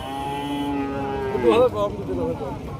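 A native cow at the Rajshahi city cattle market gives one drawn-out, close moo midway through, set against steady market chatter and people talking nearby.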